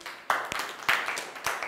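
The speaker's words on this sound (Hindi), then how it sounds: "एक बार हाथी टीम के लिए जोरदार तालियां" Group applause for the winning elephant team at a classroom health session, three separate bursts of clapping, each starting sharply and fading, fairly close.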